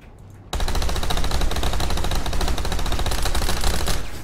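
A gun is fired in one long, rapid full-magazine burst, a dense unbroken stream of loud, close shots starting abruptly after a brief quiet moment and running to the end.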